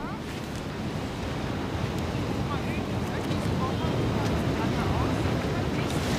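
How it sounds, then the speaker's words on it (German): Steady North Sea surf breaking on a beach at Sylt in winter, with light wind: a continuous, fairly loud wash of roaring waves that holds level throughout without pause. "Die Brandung ist heute ganz ordentlich"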